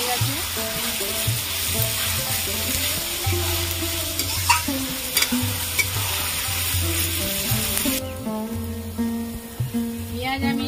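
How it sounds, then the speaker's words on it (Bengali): Onions frying in hot oil with sugar, a loud continuous sizzle close up, with spoon stirring and scraping and faint background music tones throughout. "পেঁয়াজ আমি বেরেস্তার মতো করে ভেজে নিয়েছি।"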